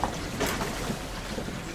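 Strong wind roars steadily over a 26ft sailboat sailing solo across the Atlantic, a loud, dense rush of air and sea noise with no voices.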